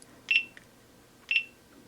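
Two short, high electronic beeps from a GoPro app, about a second apart, sound over quiet background.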